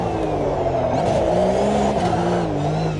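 A Porsche GT3 3.8 Cup Car engine in a racing video game drones loud and steady, its pitch rising and falling as it revs through gears, heard alone without talk.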